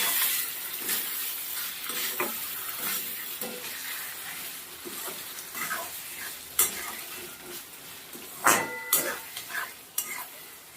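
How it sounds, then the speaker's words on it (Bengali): Spices and ridge gourd for a curry are stirred and fried in a pan, giving a steady low sizzle broken by scraping strokes and a few sharper clatters near the end. "দেখো মশলা কষিয়ে"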